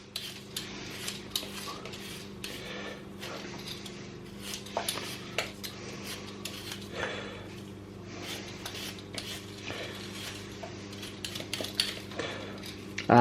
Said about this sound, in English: So we're going to have potatoes, and first thing we're obviously going to do is peel them.